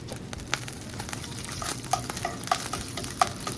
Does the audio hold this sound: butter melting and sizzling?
yes